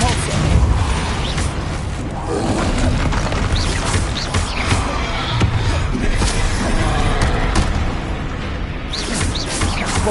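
Confringo and Bombarda spell explosions in the video game Hogwarts Legacy make a dense, loud run of booms, crashes and impacts that lasts the whole time. Shouted voices are heard among them.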